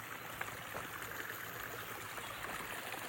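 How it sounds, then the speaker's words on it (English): Creek water runs down a mountain trail, a steady, close babbling stream with trickling details and no voices. "Water's coming off the side of the mountain up there and coming right down the trail."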